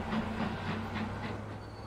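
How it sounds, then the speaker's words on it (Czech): An express train running in the Transport Fever 2 game, a steady rolling rumble with rhythmic clickety-clack of wheels over rail joints and a faint tonal hum, heard alone. "takže náš expresní vlak tady pádí"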